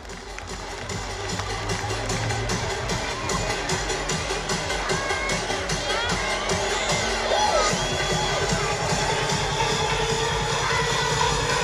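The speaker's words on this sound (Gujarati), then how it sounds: "જોરદાર તાળીઓથી વધાવીએ।" A large audience at a community get-together claps loudly, a dense continuous wash of applause mixed with crowd chatter and a few excited shouts, holding steady throughout.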